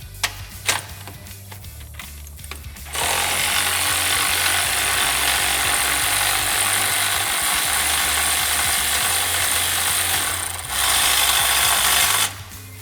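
A ratchet clicks in short bursts while a nut comes off the A-arm of a Can-Am Commander, followed by a louder, sustained harsh metallic grinding or rasping that pauses briefly and resumes near the end, all close up.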